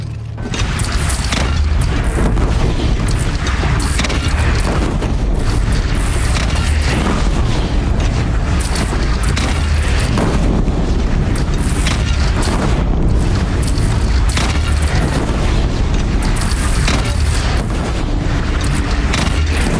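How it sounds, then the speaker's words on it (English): Cannon fire in a battle on a PS4 video game, a loud, unbroken barrage of deep booms and rumbling blasts that fills the whole stretch without any pause. "They only have one cannon!"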